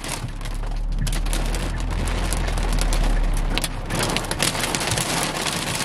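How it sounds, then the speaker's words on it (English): Large hail falling during a cold-core December storm clatters densely and continuously on nearby surfaces, a loud, steady rattle of many hard impacts with a low rumble underneath. "That's some pretty big hail. That is some big hail."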